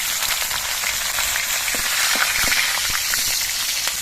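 Nigella seeds and slit green chillies hit hot oil with a bright, continuous sizzle flecked with small crackles and pops, close and fairly loud.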